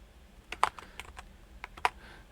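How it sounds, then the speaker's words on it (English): Someone types into a search bar on a computer keyboard, making a few close, soft key clicks in irregular bursts, with two sharper taps standing out against a quiet background. "we'll just type up here in the search bar"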